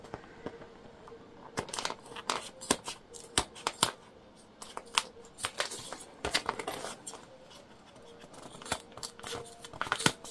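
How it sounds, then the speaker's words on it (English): Clear jelly vinyl trimmed off the edge of a hip bag with scissors or a cutter, giving sharp, irregular snips and crisp plastic clicks near the mic, spaced unevenly over quiet room tone. "So we're going to cut off our extra."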